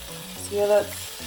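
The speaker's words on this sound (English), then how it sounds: "I turned it down once it started sizzling so it would cook low and slow" Food sizzles steadily in a hot frying pan over low heat, a soft crackling hiss that swells briefly in the middle before settling back to a low, even fry.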